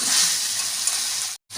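Masala sizzles steadily in hot oil as it is sautéed for a Bengali dahi chicken, a dense close frying hiss that carries on almost unbroken before dropping out briefly near the end.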